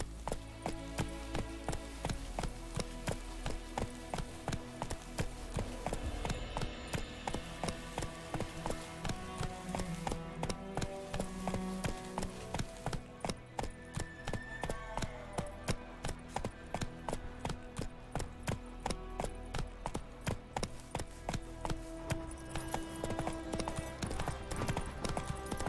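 Rhythmic clip-clop of the horse Roach galloping in Witcher 3, a steady quick pattern of hoof beats on ground layered over game music and ambience, continuous throughout.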